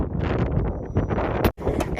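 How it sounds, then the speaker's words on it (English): Strong wind gusts buffet the microphone outdoors, with someone talking over the blustery rumble and a brief sharp dropout near the end. "it's so windy, guys"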